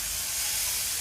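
Batter poured into hot roasted masala in a pan for pitla gives a brief, steady sizzling hiss, close and fairly loud, with no voice.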